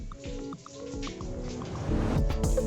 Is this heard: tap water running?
yes